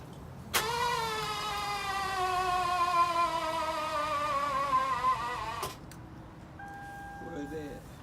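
Starter cranking a freshly rebuilt engine in a 2006 Lexus IS350: a loud, steady, whining crank runs for about five seconds and cuts off abruptly, followed by quieter faint sounds.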